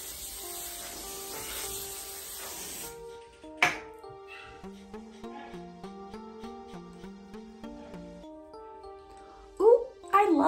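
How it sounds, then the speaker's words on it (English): Hairspray is sprayed onto a pixie-cut hairstyle in one continuous hissing burst lasting about three seconds, followed by gentle background music with soft rustling. "I'm going to spray my hair with hairspray and then just sort of scrunch it a little bit."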